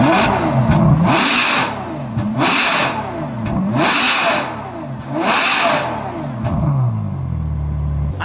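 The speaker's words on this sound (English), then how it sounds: "let's rev this in off and then compare it with on" A Ferrari F12 fitted with an Innotech IPE exhaust, valves closed, revs repeatedly in strong rising-and-falling bursts about four times, then settles to a low idle rumble; close and loud with no talking.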